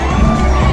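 A loud, dense crowd fills the night air at Disneyland's final Main Street Electrical Parade, a brief wash of mingled voices and cheering.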